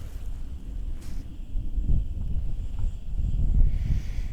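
Steady low rumbling wind buffeting the microphone on a windy day, gusting stronger toward the end, with a faint high mechanical whine of a Snaptain SP500 camera drone climbing to height in the background.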